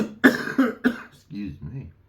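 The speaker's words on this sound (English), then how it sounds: "Coughing up. Phlegm." Several sharp coughs from one person coming up phlegm, three forceful bursts close together, followed by softer throaty, voiced clearing sounds, near and fairly loud.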